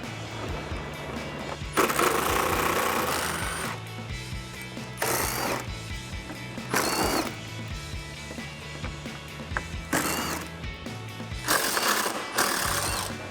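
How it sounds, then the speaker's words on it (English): A ratchet with an extension and 10mm socket removes bolts during a headlight install on a 2015-2017 Ford F-150. It gives repeated close bursts of clicking ratcheting, with short pauses between turns. "I'm gonna use an extension and a 10mm socket."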